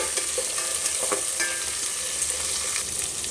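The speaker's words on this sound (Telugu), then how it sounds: "ఇప్పుడు ఇందులోనే కట్ చేసి పెట్టుకున్న పచ్చిమిర్చి ఆనియన్స్ని కూడా వేసుకొని మంచిగా ఫ్రై చేసుకోవాలి" Chopped green chilies and onions fry with biryani spices for bagara rice, giving a loud continuous sizzle as they are stirred in the pan, with scraping and clinking of the spoon.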